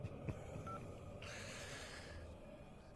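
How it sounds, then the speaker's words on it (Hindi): A telephone number is dialed in a Hindi action movie scene, with faint dial tones under a noisy, rumbling background for about three seconds. "అన్నకు ఫోన్ చేయి."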